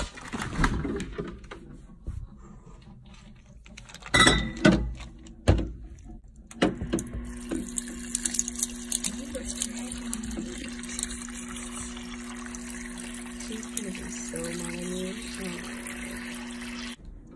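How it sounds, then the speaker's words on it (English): Cold water runs from a tap into a container, a steady stream that gurgles and rises in pitch as it fills, preceded by a few sharp knocks and clatters. "I don't want to fill it with too much water"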